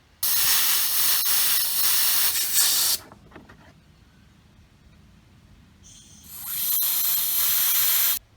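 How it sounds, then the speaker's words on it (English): An air compressor nozzle blows out the brake banjo bolt of a 2003 Polaris Sportsman 500 ATV, with two loud sharp bursts of hissing air separated by a quieter pause and some faint clicks. "put the nozzle of the air compressor up to that side and blew it out"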